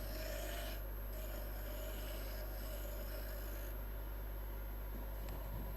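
Roughing gouge cutting a spinning wood blank on a lathe in a woodturning workshop, a steady close rasping scrape over low motor hum, continuous with slight shifts in intensity.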